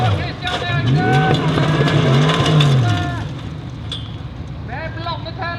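Formula Offroad race car at a Norwegian championship round in Telemark, engine revving hard with throttle held open, a loud rising and falling snarl that fades after a few seconds, under excited commentary.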